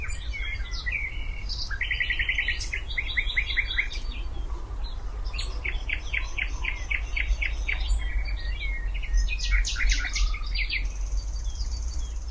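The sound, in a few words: brambling birdsong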